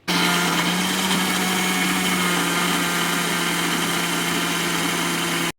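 A kitchen mixer grinder grinds masala paste for paneer matar, a loud steady motor whir with a constant hum that runs unbroken for about five seconds before cutting off abruptly, with no talking.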